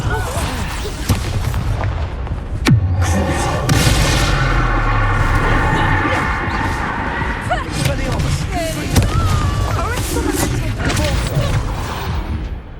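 Spell-casting combat in the video game Hogwarts Legacy: a dense run of booming blasts, thuds and crackling magical bursts, loud and continuous with a sharp slam near the start, as a character shouts spell names over the fighting.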